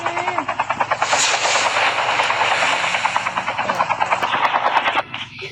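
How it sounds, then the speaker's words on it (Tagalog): Helicopter in the Call of Duty Mobile game, a loud, steady rotor chop close by that runs throughout and cuts off near the end. "Helicopter, helicopter."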